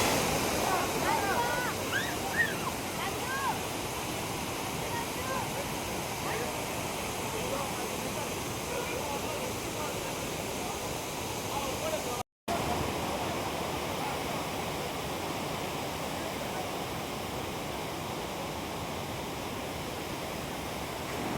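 Charpa waterfall near Athirappilly, Kerala, roars as a steady broadband wash of falling water for about twenty seconds. The sound is moderately loud and continuous, with a brief dropout midway.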